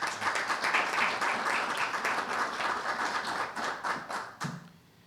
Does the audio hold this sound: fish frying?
no